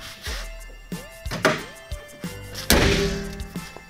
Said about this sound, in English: close the hood